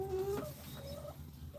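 A Light Brahma hen in a nesting box gives a few low, soft clucks and murmurs. The sounds are close but quiet, set against a steady background hum.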